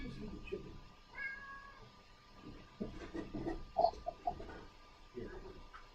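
House cat meowing near a person drawing at home, a few short soft meows in the middle, close but faint, mixed with quiet rustling while a person speaks softly nearby.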